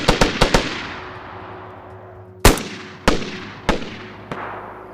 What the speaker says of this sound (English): The FNX pistol has a very similar sound to the Colt variants up close with its bassy weapon sound